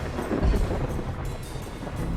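Lightning thunder from the video game Space Engineers rolls out as a brief, moderately loud rumble with a low boom at the start.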